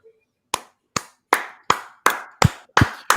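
Sparse, slow hand claps welcoming a singer to a small private concert, about eight separate sharp claps in a steady, spaced rhythm, close and fairly loud with no talk over them.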